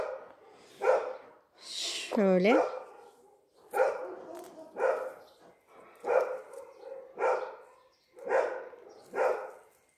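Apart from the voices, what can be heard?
neighbour's dog barking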